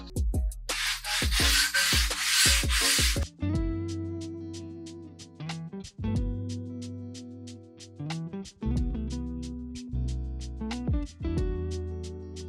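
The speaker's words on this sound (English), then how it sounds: "And then what I'll do is I come through and sand the edges." Strips of material for a large diorama being sanded along their edges, a rasping rub followed by a series of sharp clicking taps and scraping strokes, close and fairly loud.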